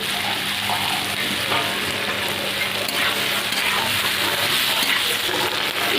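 Young jackfruit frying in a pan with salt, turmeric and green chilli gives a steady, close sizzle that runs unbroken throughout, with no talking.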